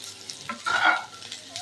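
An egg frying in a pan gives a short burst of sizzle and scraping as it is stirred, close and moderately loud, lasting under two seconds.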